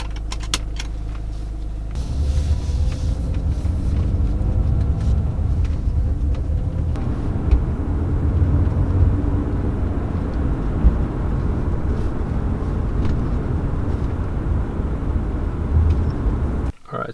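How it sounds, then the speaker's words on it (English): A BMW E46 drives along a road with a steady low rumble of engine and tyre noise heard from inside the cabin, continuous for the whole stretch with faint clicks and rattles over it. "Let's go for a little drive."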